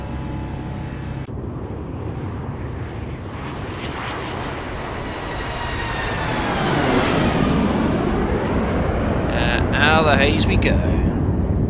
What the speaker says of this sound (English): Oh, the flyby sounds awesome.